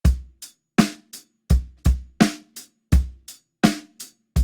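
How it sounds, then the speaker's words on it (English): Conventional rock beat on a drum kit, with kick, snare and hi-hat repeating in a steady pattern at close range, played alone with no talking. "So if I'm just playing a conventional rock rhythm, it'll sound like this."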